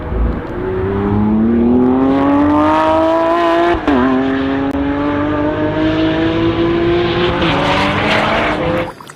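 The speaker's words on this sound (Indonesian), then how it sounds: "yang ini mobil balap" An orange and black toy racing car gives off a loud, continuous race-car engine whine that climbs steadily in pitch, dips briefly with a sharp click midway, then rises again, with no talk over it.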